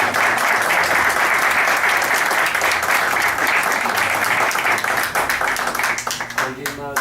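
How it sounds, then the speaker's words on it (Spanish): Sustained audience applause from a gathered crowd fills the full seven seconds, dense and steady, then thins out and tapers near the end. "yo voy a pedir a los participantes que le demos un grandioso aplauso"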